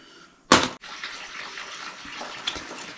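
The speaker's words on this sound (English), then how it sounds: "Manifold hooked up, water flowing." Water surges into a newly connected plumbing manifold during an abandoned cottage renovation: a sharp gush at first, then a steady, moderate hiss of flowing water.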